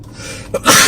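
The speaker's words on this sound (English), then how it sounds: "it made me sneeze" A single sharp sneeze up close: a quick inhale then a loud burst at the end, over a faint steady background.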